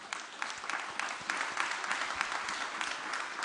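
An audience at an investment conference applauds a panel of speakers, a dense, steady clapping that fills the room for several seconds with no voices over it.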